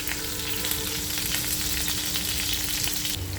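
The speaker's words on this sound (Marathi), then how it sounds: "लसूण हा चांगला तडतडल्यानंतर आपल्याला ह्यामध्ये मिरची टाकायची आहे" Garlic and green chilies fry on an iron griddle for a leafy chawli bhaji, giving a steady, close, loud sizzle with crackling that runs throughout and brightens briefly near the end.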